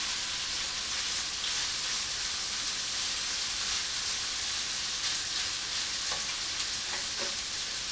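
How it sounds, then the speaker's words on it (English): Sausage browning in a hot pan, a loud, dense, continuous sizzle and crackle with a few sharper pops toward the end, close and steady throughout. "The sausage is starting to brown."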